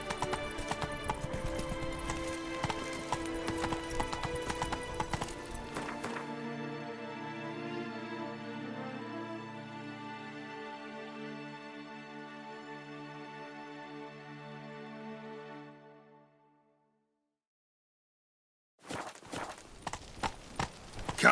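Roach the horse's hooves clip-clop in The Witcher 3 Blood and Wine, a dense rhythmic patter at the start that gives way to a sustained musical tone, with hoofbeats returning briefly at the end.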